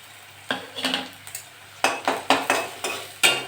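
Jackfruit chop filling with ginger paste being stirred and fried in a pan, heard as a run of sharp spatula-on-metal scrapes and clinks in irregular bursts over a low sizzle, close and fairly loud, with no talking.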